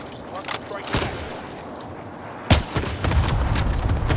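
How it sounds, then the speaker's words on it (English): Sniper rifle shots ring out in Call of Duty: Warzone Pacific, a few sharp, booming cracks spaced apart amid game noise and rumble, with players talking over the action. "Just keep sniping, keep sniping."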